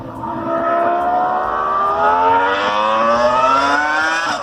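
Loud high-revving V10 engine of an F1 car, its rising harmonic whine climbing steadily as it accelerates through the gears, heard alone and close for several seconds.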